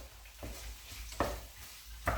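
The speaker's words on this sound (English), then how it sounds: "I'm keeping it over the high heat. Just going to stir this all together." Lamb and spices sizzling over high heat in a spicy dhal curry, a soft continuous fry with a few distinct stirring scrapes and knocks of the utensil.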